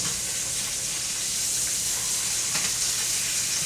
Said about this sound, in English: Let's flip these steaks.